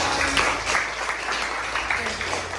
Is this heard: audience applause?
yes